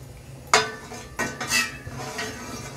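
Utensil clinks against a pot as buffalo milk heating on the stove is stirred, with several sharp metallic knocks over low background noise.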